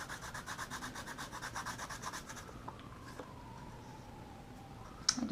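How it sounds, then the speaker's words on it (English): Excess foil is rubbed off scrapbook paper in quiet, rhythmic scratchy strokes for a couple of seconds, then near silence with a faint click at the end. "Rub off any excess."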